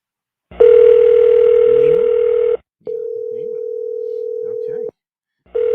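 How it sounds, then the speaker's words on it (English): Outgoing-call ringback tone on a telephone, two long steady electronic tones separated by a short gap, loud and close, with a third tone starting at the end and faint background voices under the first. "Hopefully he doesn't answer the phone."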